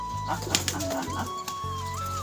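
Caged pigeons coo softly and repeatedly at close range over a steady low mechanical hum.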